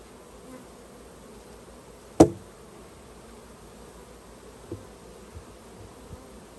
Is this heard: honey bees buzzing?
yes